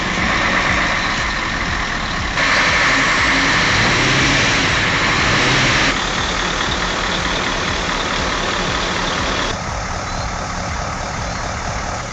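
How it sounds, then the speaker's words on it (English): Mercedes Actros truck working through deep mud while hauling logs, a loud continuous engine drone with shifting intensity and no voices. "A beautiful Mercedes Actros truck, looking very out of place."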